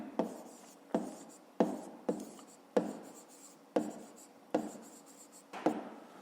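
A pen writes a math exercise on paper in short, repeated strokes, about nine scratchy bursts in a steady rhythm, close and clear with quiet pauses between.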